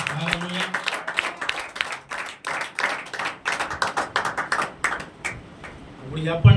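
A church congregation clapping loudly in rhythmic, rapid bursts of claps, up close and continuous, with a voice rising near the end.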